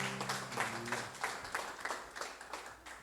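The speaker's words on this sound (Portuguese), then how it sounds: "Você pode aplaudir Jesus sentando?" A church congregation at a Sunday service applauding, moderately distant group clapping that carries on steadily for about three seconds, with a faint voice at the start.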